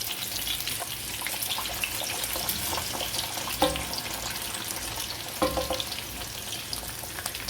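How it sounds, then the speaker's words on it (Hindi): Katlama dough deep fries in hot oil in a kadai, giving a dense, steady bubbling sizzle up close, with a couple of sharper clinks or splashes partway through; no one speaks. "कतलम्मे को यहाँ पर हम डीप फ्राई करेंगे।"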